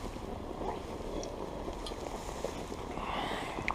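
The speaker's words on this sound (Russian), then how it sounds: "Потому что ветерок дует." Wind blows steadily outdoors at a family picnic by a campfire, a low continuous rushing and buffeting close to the microphone with no talk over it.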